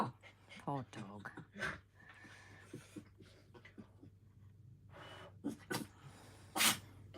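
A sharp sneeze bursts out amid casual talk and breathing, with a second short, explosive burst near the end, heard indoors at moderate distance.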